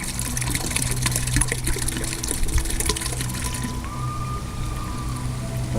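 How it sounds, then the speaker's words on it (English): Sanitizer liquid sloshed and splashed around inside a home brewing vessel for a hefeweizen, a steady close wet churning that runs the whole time with some clatter, and no one speaking. "Okay, I'm going to splash this around real good."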